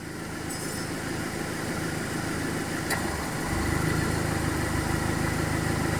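A Ford Focus with 215,367 km idles steadily throughout, with a slight shift in tone partway through as its newly replaced air-conditioning compressor clutch engages.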